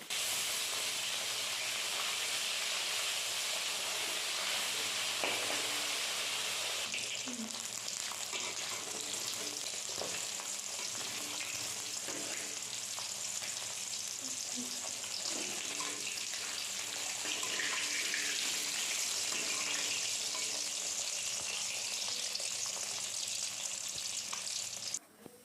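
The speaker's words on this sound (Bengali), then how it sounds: "তেলটা গরম হয়ে যাওয়ার সাথে সাথেই মাছগুলো তেলের মধ্যে ছেড়ে দেওয়া হলো এবং ভালো করে মাছগুলোকে ভাজা ভাজা করে নেওয়া হবে।" Khoira fish fry in hot mustard oil with a loud, continuous hissing sizzle that holds without a break. It is close and even, with faint stirring taps now and then.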